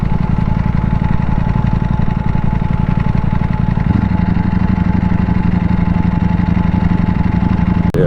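Ducati Panigale V4S motorcycle engine idling close by in Battersea, a steady, loud, lumpy rumble with a slight shift in tone partway through, with no talking.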